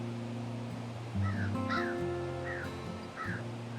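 A crow caws several times in short harsh calls outdoors near a barn, standing out clearly over a steady low hum of background noise.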